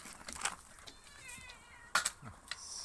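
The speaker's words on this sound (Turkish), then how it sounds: "Şimdi dışarıda diğer kediler var onlara mama vereceğim" Cats meowing outdoors at feeding time, a few short calls rising over faint background noise at moderate distance, with a sharper sound near the two-second mark.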